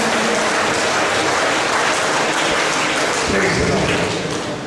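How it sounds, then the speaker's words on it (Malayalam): A congregation at a religious retreat claps hands together in thanks, a dense sustained burst of many people applauding at once, loud and close, with voices mixed into the clapping. "കൈയടിച്ച് കർത്താവേ നന്ദി പറയാം"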